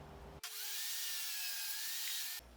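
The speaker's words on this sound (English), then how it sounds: "So I'm gonna do that on the table saw." A table saw cuts a deep bevel into hardwood, a loud sustained whining blade tone that starts abruptly and holds steady for about two seconds before cutting off.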